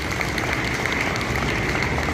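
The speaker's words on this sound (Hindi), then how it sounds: "अगर जोरदार तालियां व्यक्ति के लिए।" A school seminar audience at a public school in Hanumangarh breaks into continuous, even clapping, a thick wash of many hands heard close and steady from start to finish.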